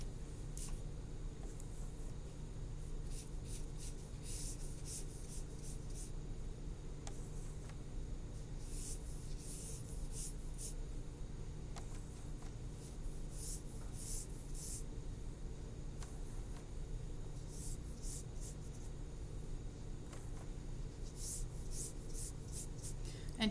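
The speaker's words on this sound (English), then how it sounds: "I'm going to just keep painting like this, with nice lines." A paintbrush strokes paint onto paper in lines, soft close scratchy brushing in short repeated bursts over a quiet steady background hum.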